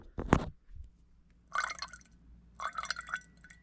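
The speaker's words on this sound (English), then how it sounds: "I'm gonna pour some of the liquid off." Liquid poured off from a sealed bag of food, a sharp splash followed by two short bursts of trickling and dripping, fairly quiet and close with no talk.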